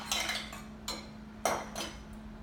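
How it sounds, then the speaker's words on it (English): A utensil scrapes and clinks against a mixing bowl while honey is worked into whole wheat dog treat dough, giving four or five distinct knocks spaced unevenly over a steady low hum. "get that honey mixed in good"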